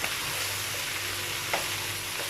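Chicken pieces being mixed and fried in a pan make a continuous, dense sizzle at close range with no pauses.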